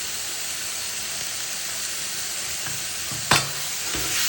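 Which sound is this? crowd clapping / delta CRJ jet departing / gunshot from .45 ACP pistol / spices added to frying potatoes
spices added to frying potatoes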